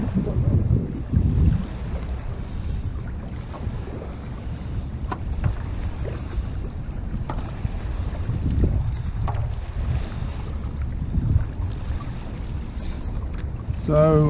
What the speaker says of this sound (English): as those waves come crashing into the shore now,